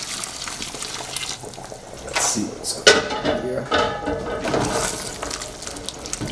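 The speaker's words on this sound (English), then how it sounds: "So now I'm going to be pouring in some water." Hot water pours into a pan of pork curry as it cooks, a continuous splashing, bubbling rush close by, with someone briefly speaking.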